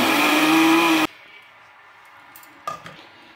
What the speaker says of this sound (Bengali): এইটা চাল, সিদ্ধ চাল ভিজিয়েছিলাম আর একটু আতর চাল দিয়েছিলাম, এইটাই পিষছি